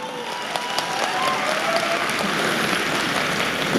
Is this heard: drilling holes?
no